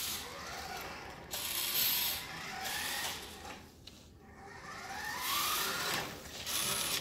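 A Nikko Pontiac Firebird Trans Am radio-controlled toy car with digital proportional speed and steering runs close by, its small electric motor whining and grinding continuously, rising and falling in pitch as it speeds up and slows.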